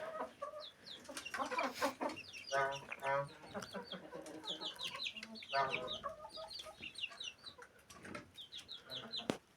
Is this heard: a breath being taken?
no